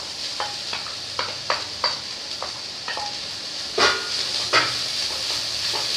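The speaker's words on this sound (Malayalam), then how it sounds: "ഇതിലേക്ക് നമുക്ക് ബീഫ് ഇട്ട് കൊടുക്കാം." Beef for cutlets sizzles steadily in a hot frying pan, broken by repeated scraping stir strokes and a couple of louder scrapes or knocks against the pan, heard up close with no talk.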